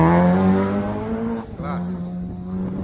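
A rally car races past on a stage in County Mayo, its engine note holding steady then dropping in pitch around the midpoint, with spectators' voices faint underneath.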